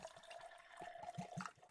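Colonel E.H. Taylor bourbon poured from the bottle into a glass, a faint, quiet trickle of liquid with soft gurgling pulses over about two seconds, heard close by with no talking.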